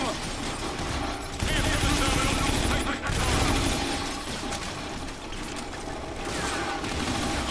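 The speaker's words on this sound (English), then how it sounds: "They're shooting civilians." Dense, continuous gunfire in Call of Duty: Infinite Warfare, a loud sustained barrage of rapid shots with mechanical clatter, with a voice mixed in.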